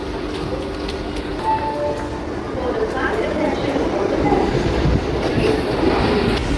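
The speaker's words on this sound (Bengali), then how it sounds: "ট্রেন ছাড়লো রানাঘাট থেকে" A local train rumbles and clatters as it pulls out of Ranaghat station, steady rolling noise with faint voices mixed in.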